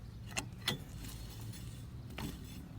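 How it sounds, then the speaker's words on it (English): Lug nuts are spun on with a four-way lug wrench on a Jeep Cherokee, producing a few sharp metallic clinks and ratcheting taps over a low background rumble. "After you put all your lug nuts on, hand tighten where you can still move them. Go ahead and spin them on with a 4-way."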